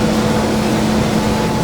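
A 2023 Stabicraft 2250 Ultra Centrecab boat running under a Yamaha F300 outboard, a steady, loud engine drone with rushing water noise and no talking.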